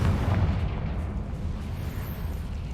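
Confringo fire spell explosion in Hogwarts Legacy, a heavy low boom at the start that rolls into a lingering rumbling tail, loud and alone.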